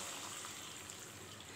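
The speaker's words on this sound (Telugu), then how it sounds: "ఇప్పుడు ఒక అర గ్లాసు వాటర్ పోసుకుందాం" Half a glass of water is poured into simmering Manchurian sauce in a pan, giving a soft, steady, quiet splashing pour with no talking.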